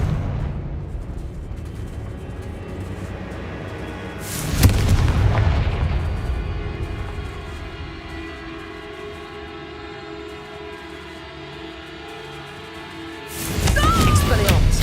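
Confringo fire spells blasting in the Hogwarts Legacy video game: two loud, booming explosive bursts spaced well apart, each with a deep rumbling tail over a low background drone.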